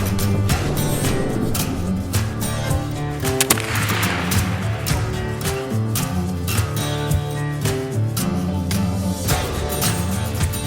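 Rifle shot from a McInturff rifle firing .358 ball, a sharp report among repeated sharp transients over birdsong-like tonal background, fairly loud and close.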